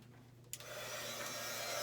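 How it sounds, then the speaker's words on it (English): An embossing heat gun switches on partway through and blows a steady, continuous airy whoosh with a low motor hum underneath, close and fairly loud, with no talking. "This is my embossing gun, so I'll just heat it"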